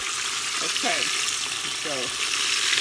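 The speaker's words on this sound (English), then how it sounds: "They're frying in the pot." Oil sizzles and crackles steadily in a pot as bread fries, while a person talks over it in short phrases.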